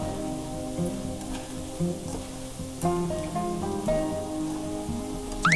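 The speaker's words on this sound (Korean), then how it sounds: "자, 더 바삭하게 튀겨볼게요." Mini sweet and sour pork deep-frying in hot oil, a steady dense sizzle and crackle running throughout with small popping bursts, close and fairly loud, no voices.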